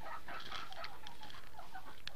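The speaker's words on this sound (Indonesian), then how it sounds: "Ini ayam indukan yang bertelur nih." Breeding hens of a Pelung chicken flock clucking in a coop, several soft, irregular clucks and squawks close by, with no talking.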